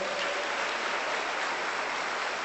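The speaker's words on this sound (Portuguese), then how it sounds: "dá uma salva de palmas ao Senhor" A church congregation applauds during a service, a dense, even wash of clapping from many hands that holds steady and fairly loud throughout, with no speech over it.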